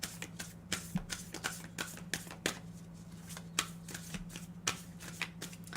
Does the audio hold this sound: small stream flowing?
no